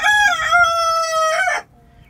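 A purebred Sultan chicken rooster crows once in its coop, a loud, close, drawn-out call with a rising start and a strained, tapering finish, followed by quiet.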